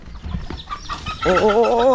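A chicken clucks close by in a short burst, a few quick rising calls that end in a louder drawn-out squawk, with faint background noise before it.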